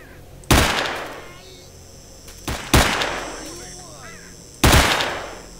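Three loud, sharp gunshot blasts ring out in the S.T.A.L.K.E.R.: Shadow of Chernobyl video game, spaced about two seconds apart, each with a decaying echo tail over quiet background ambience.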